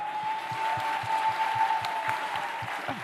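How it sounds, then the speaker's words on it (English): A town hall audience gives a steady round of applause, dense clapping from a crowd lasting the whole span, with a faint tone humming underneath. "Let's give her a round of applause."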